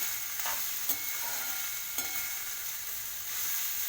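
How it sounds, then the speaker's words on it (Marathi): Cooked rice tossed in a hot pan for fodani cha bhat, a steady soft sizzle with a few light scrapes of a spatula stirring it, close and without talk. "असं सगळं राईस आपण याच्यामध्ये घालून छानपैकी आता परतून घेऊया."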